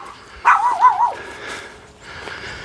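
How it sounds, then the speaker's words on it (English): A dog gives one short, close, wavering bark-whine that rises and wobbles for about half a second, followed by quieter rustling and faint background noise. "Are you gonna come outside and bark at me?"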